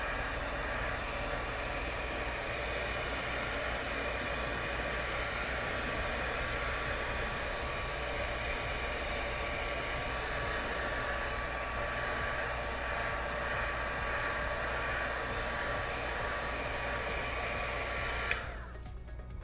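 A heat gun blows steadily on a Boba Fett armor piece, a loud continuous whooshing drone held alone for most of the stretch before a click and shift near the end.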